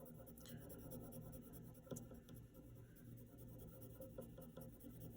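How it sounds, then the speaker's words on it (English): Pencil shading lightly on paper in a circular motion, a soft continuous scratchy rustle that stays steady and close throughout, with no voices. "You're just laying the pencil down, and we're going to move in kind of a circular motion."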